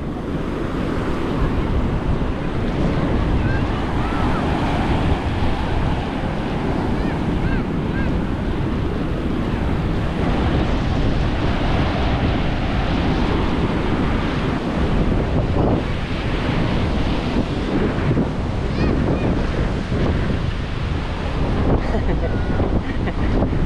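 Ocean surf rolling in continuously under strong wind, with heavy wind buffeting on the microphone throughout and a steady, loud roar of waves with no pauses.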